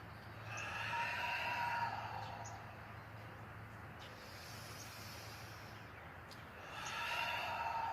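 Long, audible exhales during a breathwork and stretching routine, with two broad breath swells at the start and end over a quiet room hum and no speech.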